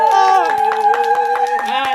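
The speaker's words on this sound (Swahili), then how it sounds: "Jamani kaolewa makofi na vigelegele." Clapping at a wedding celebration, with sustained high wavering tones that fit ululation carried over a busy mix of music and voices; a few sharp claps stand out near and loud throughout the short burst.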